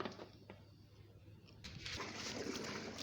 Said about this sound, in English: So we've poured the nitrosol inside, and now we're stirring it to have an even mixture